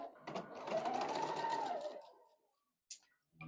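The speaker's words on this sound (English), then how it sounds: "I am ready to sew" Sewing machine stitching a quilt block, running steadily for about two seconds as a continuous mechanical whir, then stopping, with a short faint clatter after a pause.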